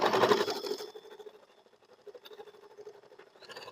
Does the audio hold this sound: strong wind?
no